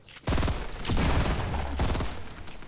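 Dense, sustained gunfire bursts from a Fortnite match, loud and close, with a rapid string of shots tapering off into fainter trailing fire.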